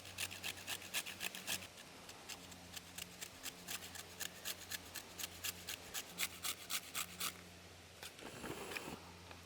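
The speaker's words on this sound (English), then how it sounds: "So we're going to shave some off here with our box." A block of fatwood is shaved into tinder on a grater-like box outdoors, with a rhythmic series of quiet, raspy scraping strokes repeating steadily, some faster than others.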